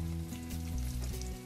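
Garlic sizzles in about two tablespoons of hot oil in a kadai while soya Manchurian is being made: a close, continuous crackling fry with a low steady hum underneath and no speech.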